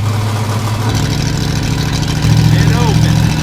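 Engine fitted with Hooker Headers and Edelbrock Pro Flo 4 fuel injection, running at half throttle with the exhaust cutouts closed: a loud, steady, muffled drone that swells slightly stronger toward the end.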